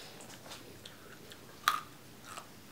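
Crunchy corn snack being chewed close to the mic, soft and faint with one sharper crunch midway through the steady mouth sounds.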